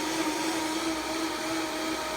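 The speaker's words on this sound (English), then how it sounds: "The lid on my Vitamix, I keep it on setting low for this" A Vitamix blender runs steadily on its low setting, a continuous loud motor whir with a strong steady hum, close to the microphone and with no voices.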